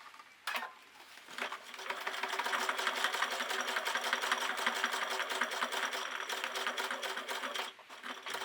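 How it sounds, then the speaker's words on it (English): A sewing machine with a larger needle stitches belt loops onto jeans, a fast, even whirring chatter running for several seconds at moderate volume, bracketed by brief starts and stops. "So slowly and until all the belt loops are sewn in place."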